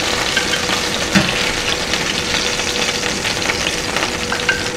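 Hamburger patties for brioche burgers frying in a pan, a steady, dense sizzle that stays level and close throughout with no talking, just a couple of brief clicks over the hiss.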